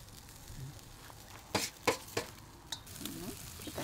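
Marinated pork small intestine grills quietly with a soft, steady sizzle, broken by several sharp pops and crackles from the fat.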